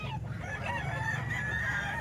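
A Golden Boy sweater rooster crows close by, a loud sustained call that fills the moment with no talk over it.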